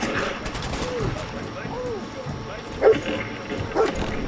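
Dogmeat the dog in the Fallout 4 video game, a few short barks and yips close by, with gunfire and combat noise around them and louder hits near the end.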